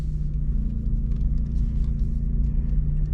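A manual-transmission Subaru BRZ pulls away in first gear, its engine humming at a low, steady idle-like drone from inside the cabin as the clutch engages.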